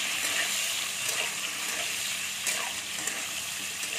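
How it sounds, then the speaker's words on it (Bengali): Potato pieces with salt and turmeric frying in hot oil make a steady, dense sizzle with a bright crackling hiss. It holds evenly close by for the whole stretch, with no voices. "এবার এখানে আলুটা আমি ভেজে নিচ্ছি।"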